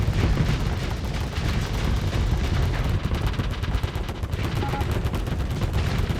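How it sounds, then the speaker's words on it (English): Rapid sabot rounds fire in a StarSector space battle, a dense, continuous barrage of overlapping shots and impacts that stays loud throughout with no pauses. "I was shooting sabots"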